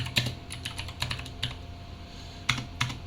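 Typing on a computer keyboard while writing C code, scattered clicky keystrokes in short irregular bursts with a pause in the middle, close and clear with no speech.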